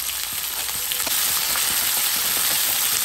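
Onions, green chillies and curry leaves sauté in hot oil in a pan for mutton gravy, giving a dense, steady, close sizzle with faint scattered crackles and no talk.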